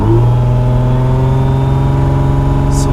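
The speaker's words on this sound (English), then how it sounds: "I'm gonna rev the car with the valves closed and open them" Nissan GT-R with an Armytrix exhaust, valves closed, holding a loud steady low engine drone close by with a slight rise in pitch, no talking.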